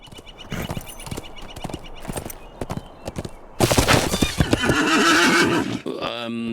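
A horse in the Lord of the Rings Online game clip-clops along with rhythmic hoofbeats, then lets out a loud, close neigh and whinny that dominates the second half.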